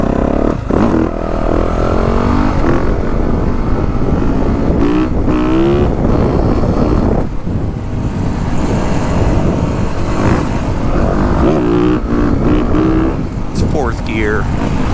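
A 2023 Yamaha YZ450F or 2023 KTM 300XC dirt bike is ridden, its engine revving up and down with on-off throttle through gears, loud and close, and a rider talks over it almost the whole time.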